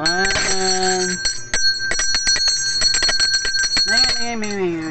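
An ice cream vendor's bell rings in rapid, loud, close metallic jingles, bursting repeatedly over several seconds while people talk over it.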